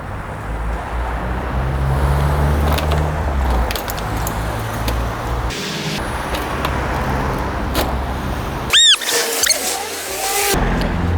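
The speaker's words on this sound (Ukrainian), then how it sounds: "це тим шляхом, коли ми переїдемо його автівкою" A car rolls over an ALLOID 56-piece tool case, giving a loud continuous engine and tyre rumble with rattles and knocks from the case and metallic jangling of the tools inside. Brief sharp clanks and squeaks come near the end.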